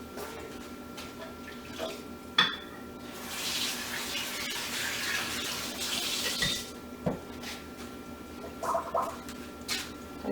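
Dr. Pepper kombucha trickles through a funnel into a jar, a soft liquid pour swelling in the middle with small clinks and handling noises around it, fairly quiet.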